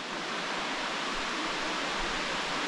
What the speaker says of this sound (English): there is the Munson Creek Fall.